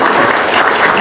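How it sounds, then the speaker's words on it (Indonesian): A large crowd applauds at a speech event, a dense, loud, sustained wash of clapping throughout the brief moment. "Boleh beri tepuk tangan."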